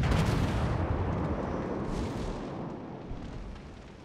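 Torpedo hits boom in a naval warship video game, a heavy explosive blast up front that rolls off into a long rumbling decay, fairly close and loud, with no voices.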